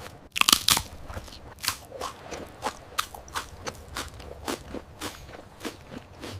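Crunchy savory, spicy food is bitten and chewed up close, with a few sharp loud crunches at the start followed by a steady rhythm of softer crunchy chews.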